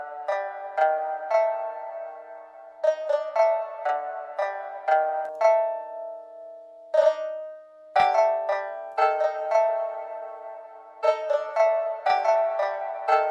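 A synth melody produced in FL Studio for a Japanese-style beat, processed with vinyl crackle and reverb, plays alone as a steady sequence of bright plucked notes with a brief sustained tone midway.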